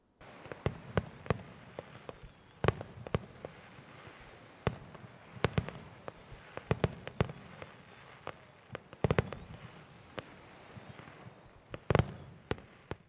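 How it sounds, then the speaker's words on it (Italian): Fireworks bursting over the Adriatic Sea at the Pesaro port summer festival, a series of sharp distant cracks and booms at irregular intervals, some in quick clusters, fairly faint with quiet gaps between. "Lo spettacolo pirotecnico illumina la notte d'estate sul mare Adriatico."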